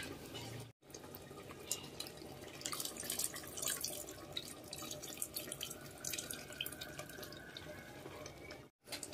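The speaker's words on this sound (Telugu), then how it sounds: "ఈ చింతపండు నీళ్ళు ఏవైతే ఉన్నాయో ఈ నీళ్ళని మనం ఇలాగా పిసిగేసేసి ఈ" Tamarind water is squeezed by hand and poured into a pan of stuffed brinjal curry, making a soft, continuous trickle with light splashes and drips, quiet and close.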